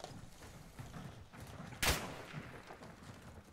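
A single sharp gunshot bursts out in Call of Duty: MWII, loud and brief against a low background of game ambience.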